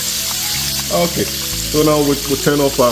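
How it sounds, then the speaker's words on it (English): Fish deep-fries in oil over medium-high heat with a constant bright sizzle and crackle, while a person talks over it nearby. "we've been frying for about 21 minutes"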